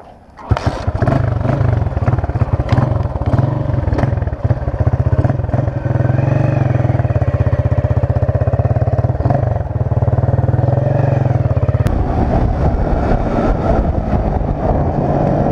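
The engine of a Motomel 150 S2 motorcycle drones steadily and loudly while being ridden, holding a constant rumble with wind buffeting throughout and a brief rise in pitch near the end.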